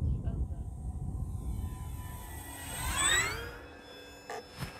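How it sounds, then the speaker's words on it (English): An E-flite P-51D June Nite radio-controlled model plane in flight, its electric motor whine climbing sharply in pitch as it passes close, over steady outdoor wind noise. "the last time I flew this plane was Esteban's."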